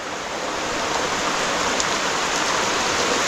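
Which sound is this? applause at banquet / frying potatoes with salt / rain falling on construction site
rain falling on construction site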